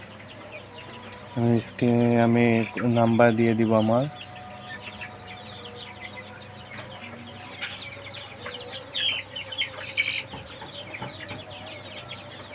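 Sonali chicken chicks and fowl give a loud burst of repeated harmonic calls near the start, then fainter scattered clucks and chirps, while someone speaks briefly partway through.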